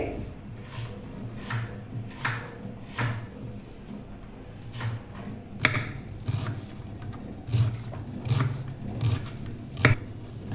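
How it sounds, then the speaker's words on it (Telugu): An onion being sliced very finely with a knife on a board in a home kitchen, a run of crisp, irregular chopping taps at close range, with no talking. "ఇప్పుడైతే ఒక ఉల్లిపాయ తీసుకున్నాను. దీన్ని కూడా చాలా సన్నగా కట్ చేసి పెట్టుకోవాలి."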